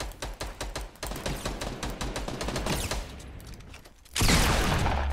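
Rapid bursts of video game gunfire crackle in a dense, steady volley for several seconds, then a louder burst of blasts and rumble erupts near the end, with no talking over it.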